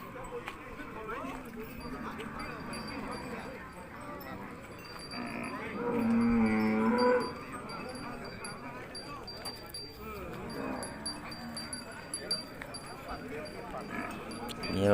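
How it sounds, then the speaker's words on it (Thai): Livestock market at Kusuman in Sakon Nakhon, with cattle including Charolais and Brahman crowding around; a brief low moo rises midway above a constant bustle of people talking, shuffling and hoof sounds. "วัวเลี้ยงก็มาเยอะนะครับ"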